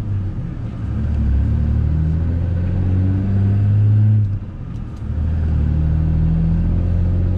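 A truck with a newly installed SouthBend dual-disk clutch and NV5600 transmission drives on a test run, its engine a steady low rumble with a brief dip and swell mid-way, close and continuous.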